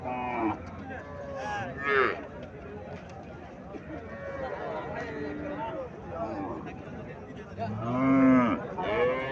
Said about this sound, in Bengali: এটা দেশি গাবি